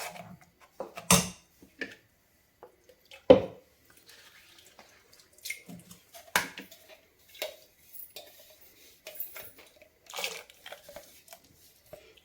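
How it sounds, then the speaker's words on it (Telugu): Rinse water from a mixer jar is poured into a pan of thickening dough for kudumulu, heard as sparse drips, splashes and clinks of utensils against the pot amid quiet pauses. "మిక్సీ కడిగిన నీళ్ళు"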